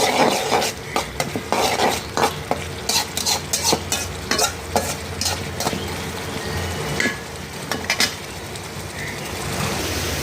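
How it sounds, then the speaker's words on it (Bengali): Dried fish and garlic frying in a pan, loud sizzling under repeated rhythmic metal scrapes and clanks of a spatula stirring against the pan, close and continuous. "এখন আমি শুটকি এবং রসুনগুলো দিয়ে দিয়েছি।"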